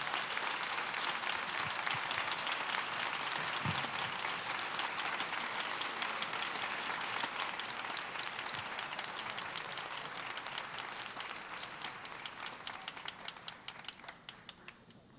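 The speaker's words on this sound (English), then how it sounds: "Please give her a wonderful birthday round of applause." Steady audience applause at a university Founders Day convocation, honoring a special alumna's birthday; dense, sustained clapping from a large crowd that holds for most of the stretch, then begins to thin and fade toward the end.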